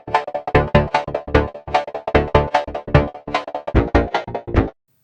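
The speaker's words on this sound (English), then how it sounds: "we can do all kind of interesting stuff to modulate that hi-hat pattern to make it sound a little bit different every time" A chopped, shuffling hi-hat pattern from the Filterverse plugin, with sequencer-modulated panning on the filter, plays as a fast run of crisp, evenly spaced hits that vary slightly in level before stopping cleanly.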